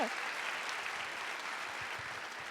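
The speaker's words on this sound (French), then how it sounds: "Oui, on peut applaudir." Gala finale audience applauds, a steady wash of many hands clapping at moderate distance, fairly quiet and even throughout.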